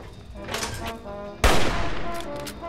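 Gunfire in the video game Fallout 3: one sharp, loud shot cracks out midway and decays over game sounds, with a softer burst of game noise just before it.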